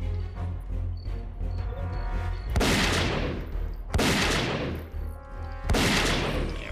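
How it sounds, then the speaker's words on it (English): Gunfire in the video game Zeno Clash, three heavy booming shots spaced over a few seconds, each with a long fading tail, over a constant low rumble of game sound. "Guns are more along the lines of defense in this game"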